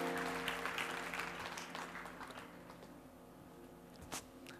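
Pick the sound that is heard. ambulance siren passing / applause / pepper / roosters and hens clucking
applause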